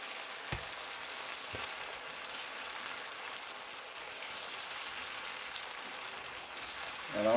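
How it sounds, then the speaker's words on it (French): Water trickles slowly into a pan of Tunisian ojja sauce, raising a steady, close hiss and crackle of sizzling that runs throughout, with a couple of brief knocks near the start. "on verse tout doucement pour délayer et créer de la sauce"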